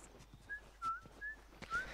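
A character in the video game The Last of Us whistles four short, clear tonal notes spaced apart over faint background ambience.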